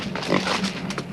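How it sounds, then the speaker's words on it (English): A Chinese potbelly pig grunts and oinks in a short, close burst of snuffling, nasal sounds lasting about a second. "This is not just any pig. This is a Chinese potbelly."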